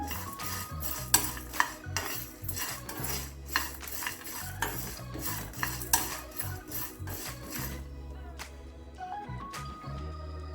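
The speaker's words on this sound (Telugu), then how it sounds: "లో ఫ్లేమ్లోనే దోరగా ఫ్రై చేసుకోవాలి. ఇందులోనే జీడిపప్పు కూడా 1 స్పూన్ వేస్తున్నాను." Cashews frying and being stirred in a pan on a low flame, with a utensil scraping and clinking against the pan in steady, close strokes. Music plays throughout, and the stirring fades out near the end.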